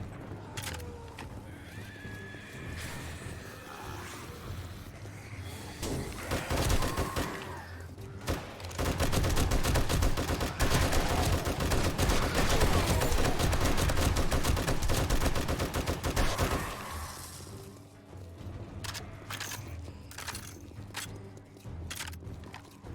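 Gunfire in the survival game 7 Days to Die, rapid bursts of shots building into a long dense stretch of continuous loud firing, then thinning to scattered single cracks near the end.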